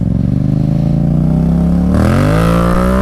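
A motorcycle in first gear accelerates hard at full throttle, its engine note climbing steadily in pitch and loudness, then jumping higher near the end, close and continuous with no talk.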